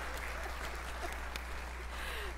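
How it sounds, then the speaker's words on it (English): An audience at a forum opening ceremony applauding, a steady wash of clapping at moderate distance under a low constant hum. "Let's have another round of applause for Xavier Strings."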